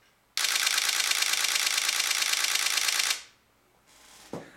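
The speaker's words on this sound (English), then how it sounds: "and that's the sound of the shutter." A Nikon D3S camera shutter fires in a rapid continuous burst for about three seconds, a loud, even mechanical rattle, followed by a couple of faint clicks.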